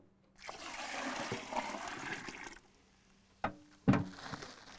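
Water is poured steadily into a turkey brine for an overnight soak, a continuous rushing splash lasting a couple of seconds, then a few sharp knocks and clunks as containers or ice are handled nearby.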